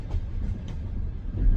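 A Soviet-era night train from Chișinău pulls into Bucharest North station, giving off a steady, heavy low rumble for a brief moment with no talking.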